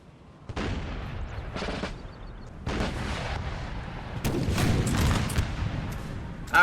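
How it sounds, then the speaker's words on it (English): Napoleonic cannon batteries fire in the Napoleon Total War game, a loud close volley of booms and crackling gunfire in bursts that swell and overlap toward the end. "The artillery is just brutalizing this line."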